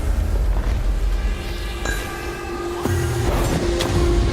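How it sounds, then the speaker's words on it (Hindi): A booming blast in Minecraft as the Ender Dragon blows a player up, a loud deep rumble with sharp bright bursts layered over a steady game tone and no talk. "ड्रैगन ने जिमी को उड़ा दिया"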